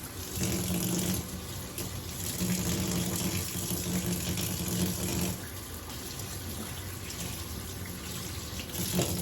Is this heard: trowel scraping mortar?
no